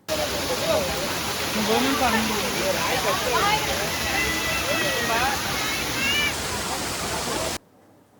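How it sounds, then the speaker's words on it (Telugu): Jalatarangini waterfall near Maredumilli gives a steady, loud rush of falling water that fills the whole scene, with voices talking over it before the roar cuts off abruptly near the end. "బయలుదేరి వచ్చేటప్పుడు మధ్యలో జలతరంగిని వాటర్ ఫాల్స్ ఉన్నాయి"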